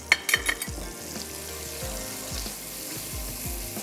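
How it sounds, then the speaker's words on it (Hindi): Salt, turmeric and red chili powder frying in hot oil for a dahi bhindi recipe, a steady close sizzle with a few sharp scrapes of stirring at the start. "थोड़ा सा इसको फ्राई होने देते हैं"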